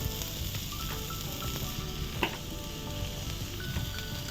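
Spices and tomato frying in a pan with turmeric powder added, making a steady close sizzle with a few scraping stirs, no voices.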